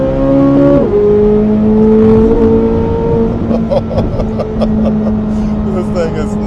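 A Corvette C8 engine revs and pulls hard, its tone dropping after a gear change and then holding a loud, steady drone. Talk runs over the engine through much of it.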